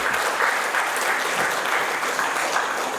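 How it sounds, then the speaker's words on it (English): Sustained applause from an audience at an inauguration event for an engineering program at a college campus, steady dense clapping filling the whole stretch with no voices over it. "A big round of applause to the entire set of people here."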